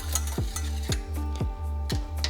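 Sugar and cornstarch being mixed in a bowl, heard as a steady rhythmic scraping stir with about five regular strokes, close and clear, with no talking.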